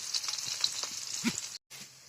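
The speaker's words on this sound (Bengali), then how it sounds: "অল্প কিছুক্ষণের ভিতরে আমাদের এই মাছ ভাজাগুলো কিন্তু হয়ে যাবে" Wetland fish such as snakehead and taki fry in oil in an outdoor village kitchen, giving a soft continuous sizzle with small crackles and one brief dropout near the end.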